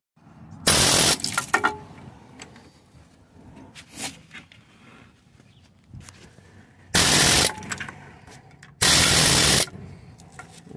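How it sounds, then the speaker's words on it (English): An air hammer on a rusted Jeep Wrangler shock bolt fires in three loud, harsh bursts separated by quieter pauses with faint clinks and shop noise. "let's grab the air hammer real fast"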